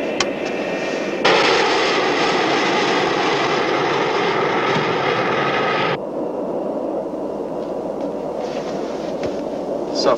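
Jet aircraft holding at 30,000 feet, a steady loud roar of engines heard from inside the cabin, with a sharp rise in intensity partway through and a quieter hum afterward.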